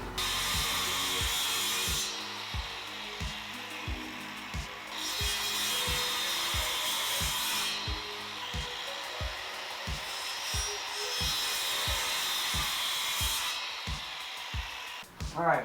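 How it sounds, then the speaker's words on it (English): A hand saw cuts into wood while a stand is being built, making several cuts to clear out material, with steady rhythmic back-and-forth strokes, fairly close and moderately loud, and a brief clunk at the end. "make several cuts along here to remove some of the material and we can chip it out"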